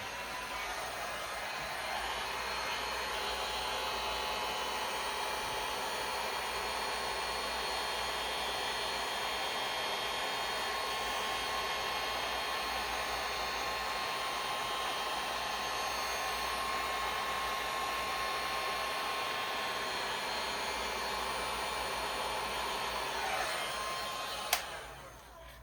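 A hot-air heat tool blows steadily onto resin for about twenty-three seconds, a loud continuous whoosh with a faint whine, then clicks off and the airflow dies away.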